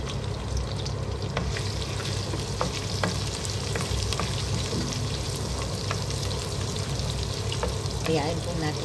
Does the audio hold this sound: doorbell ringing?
no